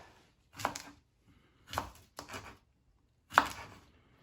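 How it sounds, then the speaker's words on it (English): Four separate bursts of knife chopping through cucumber, red onion, tomato and cilantro for a quinoa avocado salad, each a short cluster of sharp cuts on a board with quiet pauses between. "So we are going to chop this up."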